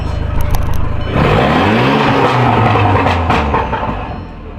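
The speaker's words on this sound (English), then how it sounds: "But as far as starting it, it starts right up." A big-turbo car engine cranks and catches at about one second, then revs up and settles into a loud, close idle with rising and falling engine tones.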